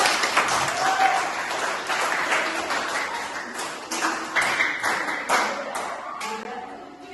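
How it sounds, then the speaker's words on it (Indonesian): A crowd applauds, with many hands clapping steadily and loudly for several seconds. "tepuk tangan dulu untuk kita semua."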